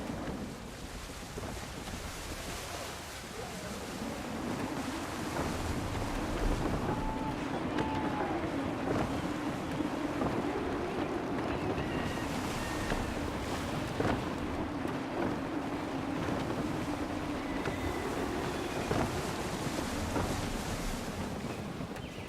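A sailing ship in the Assassin's Creed III game pushes through gusty wind and waves. Roaring wind buffets steadily over the constant wash of surf and creaking hull, loud and unbroken throughout.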